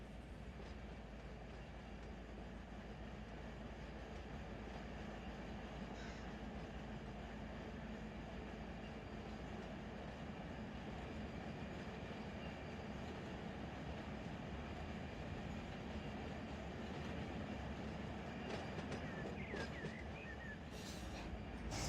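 A freight train loaded with Mercedes cars in Run 8 Train Simulator rumbles steadily and quietly throughout, a continuous low drone with faint clanks near the end and no voices.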